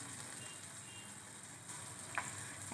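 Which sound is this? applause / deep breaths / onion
onion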